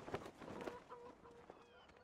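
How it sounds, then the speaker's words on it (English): Chickens cluck in the farming video game Farming Simulator 17, a few soft, quick clucks and calls over about two seconds, faint and close. "You just kind of stumble upon your chickens"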